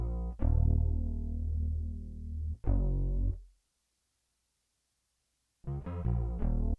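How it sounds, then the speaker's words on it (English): A contact bass sample processed with effects in FL Studio plays sustained, distorted, chorus-like low notes in two phrases, pauses in near silence, then returns with a bouncier pattern, loud and with no voice over it. "Then next I added this contact bass that just sounds like this."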